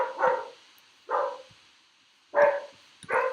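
Pet dogs barking: four short, separate barks or yelps spaced out over a few seconds, moderately close, with quiet gaps between them and no talking.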